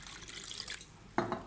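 Water poured into a pan of strained tamarind chutney while cooking, a brief splashing burst near the end, close and fairly loud after a quieter stretch of faint liquid noise.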